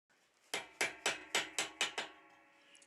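A blacksmith forges a steel ring for tong clamps on an anvil horn: six sharp, ringing hammer blows strike in an even rhythm, close and clear, then fade to quiet.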